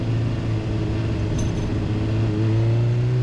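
A truck engine idles and revs steadily nearby, a low continuous rumble with rising pitch toward the end.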